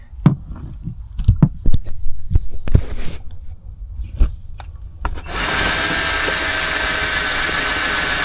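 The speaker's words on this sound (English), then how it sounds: "Metal wire brush for the drill." Scattered knocks and scrapes, then a power drill spins up with a metal wire brush on a car's metal surface, giving a loud, steady high-pitched whir and grinding.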